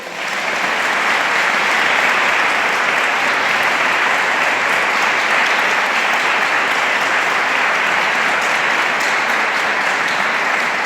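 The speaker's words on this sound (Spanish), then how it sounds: "Permitidme un aplauso para los sacerdotes." Sustained, dense applause from a large crowd at a national Divine Mercy gathering in Spain, honoring the priests; steady and loud throughout with no break.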